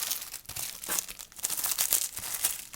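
Close, soft crinkling and rustling of plastic packaging as a new old stock Commodore C64 board is unwrapped, with steady crackles that keep going and no talking.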